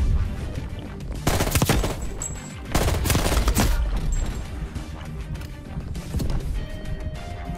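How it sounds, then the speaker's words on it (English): Rapid bursts of automatic gunfire in the video game Call of Duty: Black Ops Cold War, loud and close, with dense volleys of shots and clattering impacts throughout. "this is rapid fire"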